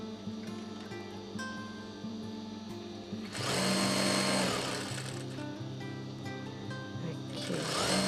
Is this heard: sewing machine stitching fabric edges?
yes